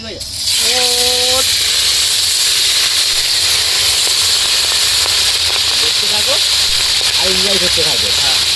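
Fish frying in a pan aboard a boat on a river, a loud continuous sizzle and hiss running throughout while voices talk over it now and then.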